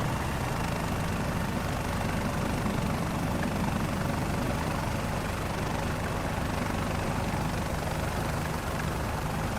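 A video game helicopter's engine and rotors drone as a steady, broad rumble with a whooshing hiss throughout, moderately loud and unchanging, with no voices.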